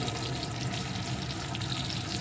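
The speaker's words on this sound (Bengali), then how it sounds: "এখন এগুলো এর সাথে একটু ভেজে নেব" Chopped tomato and green chillies fry in an oiled pan with a dense, continuous crackling sizzle at close range, steady and even throughout with no talking.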